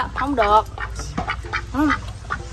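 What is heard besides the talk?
duck quacking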